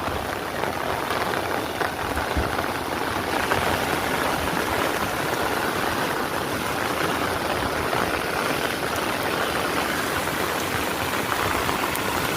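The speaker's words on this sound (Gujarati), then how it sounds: "હબાટી બોલાવે છે પાણી જોઈ લો" Rainwater gushes and roars in a loud, steady, unbroken rush through a waterlogged groundnut field, close by, with no talk.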